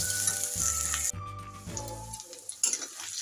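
Onions frying in a pan for mutton liver fry, a brief sizzle with clinks of a utensil against the pan, close and fairly quiet, no voices.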